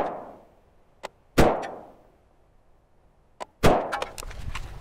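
Shots from a PSA Freedom AR-15 rifle at an outdoor range, four sharp cracks fired at uneven intervals in two pairs, each with a fading echo tail, and quiet gaps between them.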